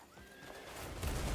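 A horse in the Crimson Desert video game whinnies, a rising high neigh over steady clip-clopping hooves that grow louder toward the end, with no talk.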